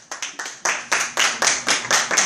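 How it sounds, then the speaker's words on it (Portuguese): Congregation in a church clapping together in a steady rhythm of about nine strong beats, each burst sharp and close, with no talk over it. "dá uma salva de palmas para Jesus"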